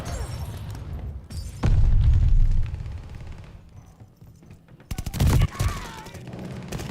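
Automaton rifle gunfire in the online shooter Call of Duty: Vanguard, heard as a few loud bursts of rapid shots with booming impacts, standing out over a dense, busy background of game noise.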